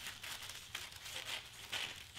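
A strip of white paper is folded, making soft, close crinkling and rustling at a low level for a couple of seconds.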